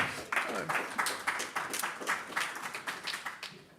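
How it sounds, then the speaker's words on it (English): An audience at a business and security panel event clapping, a dense patter of handclaps, moderately faint and steady, fading slightly toward the end with no speech. "Give it a round of applause."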